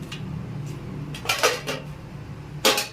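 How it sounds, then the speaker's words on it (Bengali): A metal lid set down over a cooking pot on the stove after mixing, giving a few short clattering clinks and one final sharp clank, close and alone. "মিক্সড করার পরেই আমি এখন ঢাকা দিয়ে রেখে দেব।"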